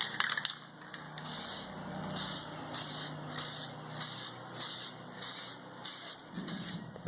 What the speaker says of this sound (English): we're going to spray paint all the hardware as well